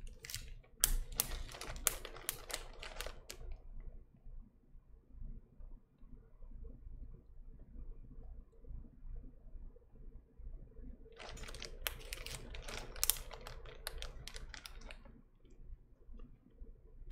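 Typing on a mechanical keyboard, likely a KBD75 with BOX Royal or vintage black switches, in two bursts of quick close clicking and clacking separated by a quiet pause.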